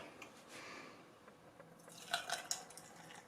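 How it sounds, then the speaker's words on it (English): Coffee poured over ice cubes in a glass: soft liquid trickling at first, then a few brighter clinks and splashes as the ice shifts, all quiet and close. "you will start off by pouring in the coffee"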